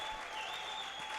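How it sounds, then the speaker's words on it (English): Fans in the stands applaud at the APA World Pool Championship ladies 8-ball event in Las Vegas: continuous, even clapping from a modest crowd fills the moment, steady and fairly loud throughout. "some applause from the Apocalyptics fans here in the stands"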